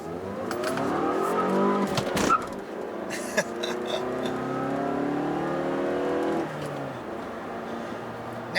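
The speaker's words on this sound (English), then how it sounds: "let's get out on the road and see if I notice any changes on this initial takeoff" A 2017 Mazda3 GT with a six-speed manual pulls away from a standstill on the road, its engine revving up through the gears with brief dips at each shift, steady and fairly close, with no one talking.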